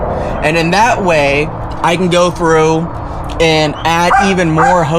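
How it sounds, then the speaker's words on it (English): German Shepherd barking and yipping outdoors beside a greenhouse build, intermittent barks mixed in under steady close-up talking throughout. "sorry about the barking, my German Shepherd knows I'm out here and he wants me to play with him"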